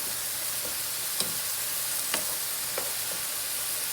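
Mushrooms fry in a pan with a steady, close sizzle, broken by a few faint clicks and taps of a utensil stirring them.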